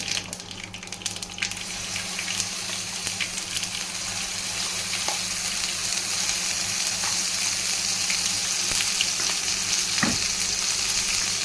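Sesame seeds, curry leaves and masala roast in a pan with a steady hiss and crackle, occasional stirring scrapes and clicks above it, close and continuous.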